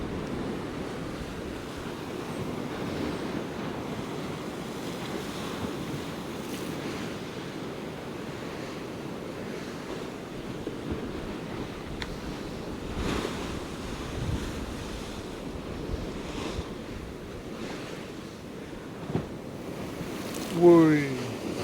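Storm waves and high wind batter Gorleston pier, with a steady roar of surf and gusting wind noise. Rough sea rollers wash continuously, and a louder splash hits near the end.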